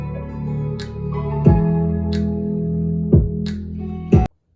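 Beat with sustained synth pads and bass under a punchy chosen kick drum that hits roughly every second or so, ending abruptly.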